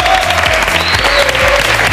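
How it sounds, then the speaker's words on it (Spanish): Studio audience at a televised fashion show applauding steadily and loudly throughout, a dense wash of clapping with music tones faintly underneath. "Aplausos para ti."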